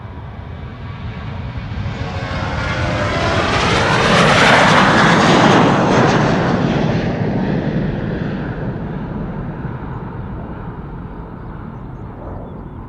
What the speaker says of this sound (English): This is a KLM 737 to Edinburgh, coming this way.